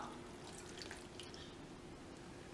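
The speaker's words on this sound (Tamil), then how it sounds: "நம்ம அதே கப்புக்கு பால் அதை விட்டுக்கலாம்" Milk pours into a cup of gram flour in a kitchen as a steady liquid stream, close and fairly soft over a constant background hum.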